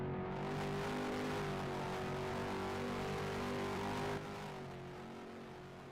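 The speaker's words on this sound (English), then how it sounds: "So the last car out here on the racetrack is the white and gold 24 machine" A white and gold number 24 ROX Modified race car runs a qualifying lap at Sebring, its engine holding a steady, loud droning note that eases and fades slightly near the end.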